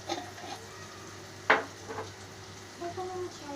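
Nigella seeds (kalo jeera) dropped into hot oil, a soft close sizzle with light stirring taps and one sharp clatter of a utensil against the pan.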